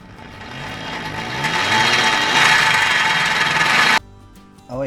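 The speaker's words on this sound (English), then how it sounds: "I've got a metal drill bit. I'm just going to drill out the center of that" A close power drill with a metal bit grinds steadily into metal, drilling out an air compressor regulator part, for about four seconds, rising in intensity, then cuts off abruptly with a brief whir after.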